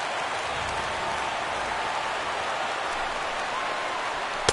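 Stadium crowd of over 39,000 at a Detroit Tigers versus New York Yankees game in MLB The Show 16, cheering as a steady, broad roar at constant level with no distinct voices.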